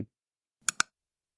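A computer mouse clicks twice in quick succession, close and crisp, during a web app setup; the room is otherwise quiet.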